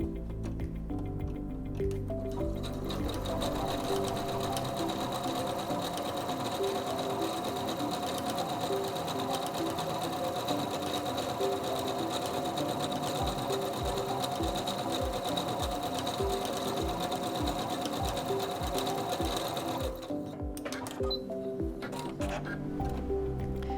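A SINGER C430 sewing machine runs a mirrored decorative stitch with a steady mechanical whir, its needle ticking in quick rhythmic beats; brief pauses come at the start and end.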